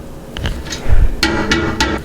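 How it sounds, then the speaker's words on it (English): Three sharp knocks of a stick blender against the bottom of a cup of soap mixture, evenly spaced and close by, following some lighter handling noises. "I'm going to tap my stick blender on the bottom to get air bubbles out"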